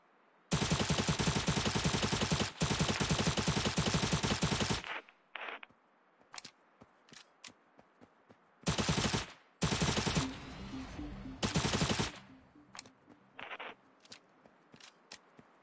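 Rapid automatic gunfire from a video game weapon, with long loud bursts followed by shorter scattered shots and single pops, close and dominant with no talk.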